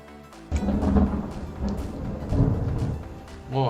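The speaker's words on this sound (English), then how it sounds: "I just wanted to get the mic on so you could hear the end of that thunder" The tail end of a thunderclap rolls and rumbles low and broad, fading out over a few seconds with faint rain behind it and no talking.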